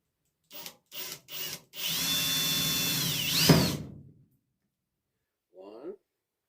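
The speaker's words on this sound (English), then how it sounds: "And I start drilling." A power drill bores into the body of a first-generation F-body car to take rear glass trim clips, running steadily for about two seconds close up, after several short bursts of speech and a brief voice at the end.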